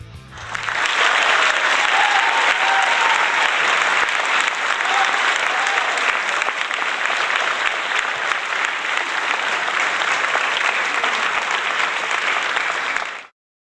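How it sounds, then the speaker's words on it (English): A live audience gives Bruce Goldberg a big round of applause, dense and sustained clapping at full volume that swells in quickly and holds steady for about twelve seconds before cutting off abruptly. "So give a nice big round of applause for Bruce"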